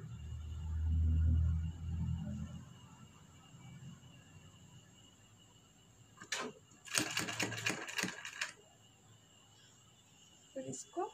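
A sewing machine stitches a matka-style back neck design in several short bursts of rapid whirring and clatter in the second half, after an opening stretch of low muffled sound and handling noise.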